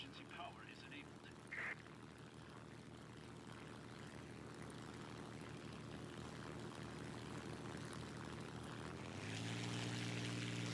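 A propeller fighter's engine drones steadily at full throttle with war emergency power in War Thunder, a continuous buzzing hum that grows louder and rougher toward the end as power increases.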